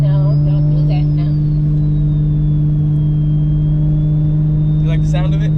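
A 600hp single-turbo N54 BMW 335i drones loud and steady from the cabin, its deep engine hum constant throughout, while voices talk over it.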